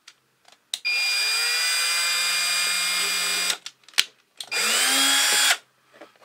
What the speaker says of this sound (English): drill a tiny hole for the guide for my step drill